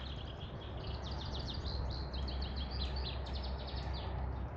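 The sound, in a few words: birds singing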